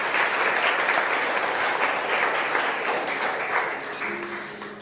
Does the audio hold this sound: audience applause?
yes